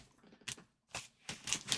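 Scissors snipping and slicing through the cardboard and tape of a large shipping box being unboxed, a few quick crisp cuts separated by short pauses, close and moderately loud with no talking.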